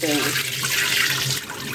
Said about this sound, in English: wash until the water is clear and no dirt on the bottom like this